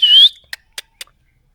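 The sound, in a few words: plum-headed parakeet whistling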